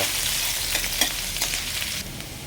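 Ginger sizzles and crackles steadily in hot cooking oil while being sautéed for chicken gizzard adobo, with a few sharper pops and stirring scrapes, close and continuous.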